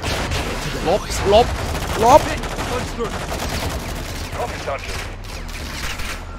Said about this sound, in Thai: ยิงถังน้ำมันแม่งให้ระเบิดเลยละกัน